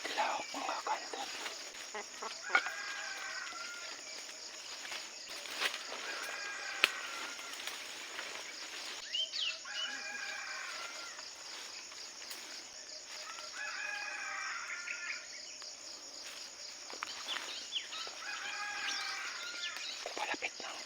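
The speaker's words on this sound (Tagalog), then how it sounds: "tumitilaok mga kantil" Several roosters crowing in turn outdoors while hunting wild jungle fowl (labuyo), the calls repeating every few seconds at moderate distance over a steady insect-like hiss.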